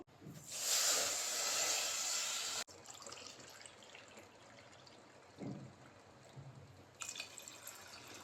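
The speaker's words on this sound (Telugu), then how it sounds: "ఇప్పుడు టూ కప్స్ ఆఫ్ వాటర్ అయితే యాడ్ చేసుకుంటాను" Two cups of water poured into sugar in a pot to start a syrup for semiya payasam and gulab jamun: a loud, steady pouring hiss for about two seconds that cuts off abruptly, then quiet kitchen handling with a few light clinks.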